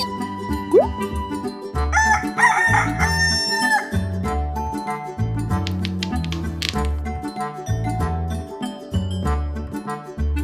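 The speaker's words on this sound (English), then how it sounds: "And now for some chickens and roosters." Roosters crow repeatedly among clucking chickens in a farmyard, several loud calls rising over busy background clatter and chatter of fowl.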